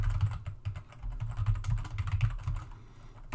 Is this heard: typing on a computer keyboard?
yes